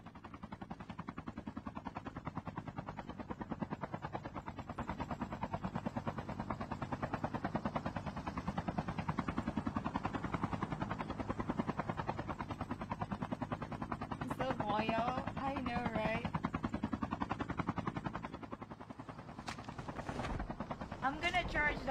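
Helicopter rotor thumping steadily throughout a Call of Duty Mobile match, loud and continuous, mixed with game effects and bursts of gunfire, with people talking over it.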